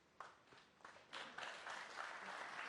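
A quiet snooker arena audience at the Tour Championship begins clapping after a shot: scattered individual claps build quickly into steady, soft applause heard from a distance.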